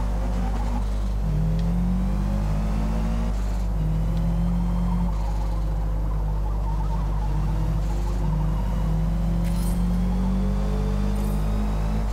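A car engine with an upgraded camshaft in the video game Forza Motorsport drones steadily at close range, its pitch rising and falling in repeated revs over a heavy low rumble, with no voices.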